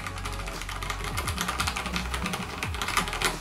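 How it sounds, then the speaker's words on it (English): Keys clatter at a quick, uneven pace on a Skyloong SK96 RGB wired mechanical keyboard, with loud, close, crisp clicks and no voices. "it is pretty loud since it is like a mechanical keyboard"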